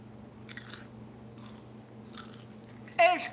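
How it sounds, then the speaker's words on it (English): A crunchy marshmallow is bitten and chewed up close in a few soft crunchy bursts, with a louder crisp crunch near the end over a steady low hum. "I'm gonna also eat this marshmallow right here."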